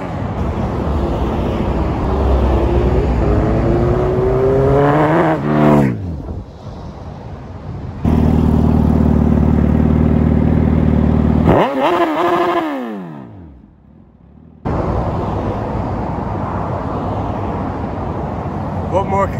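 A 2019 Suzuki GSX-R 1300 Hayabusa motorcycle engine revs loud and close, rising and falling in pitch across several throttle bursts, with brief quieter idle gaps between them.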